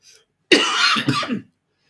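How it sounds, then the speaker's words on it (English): A single harsh cough with some throat clearing, close and fairly loud, followed by quiet. "Excuse us while we cough and splutter."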